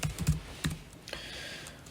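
Soft clicks of a computer keyboard as a name is typed into CATIA Magic modeling software, a few quick keystrokes clustered early, then a quiet trailing hum.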